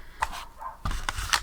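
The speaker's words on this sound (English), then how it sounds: "Excuse my neighbour's dog barking again." A neighbour's dog barks from a distance, a few short muffled yaps in an uneven burst, faint and alone.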